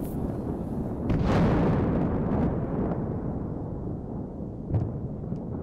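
A drone attack on a Ukrainian supply vehicle sets off a muffled blast that swells and then fades, followed by rumbling debris and a smaller burst near the end, all fairly distant and subdued.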